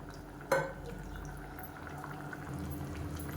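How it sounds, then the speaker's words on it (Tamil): Tamarind kuzhambu curry simmering in a pot, giving a low, steady bubbling murmur close by, with a brief clatter near the start and no talking. "இப்போ நல்லா கொதிக்க ஆரம்பிக்குது"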